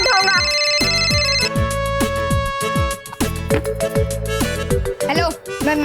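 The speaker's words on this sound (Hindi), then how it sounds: "अगर बालवीर का फोन होगा तो मैं उठाऊंगा।" A phone rings with a bright, looping musical ringtone in a Hindi children's fantasy TV drama scene. The melody repeats steadily and loudly for several seconds, with no voices over it.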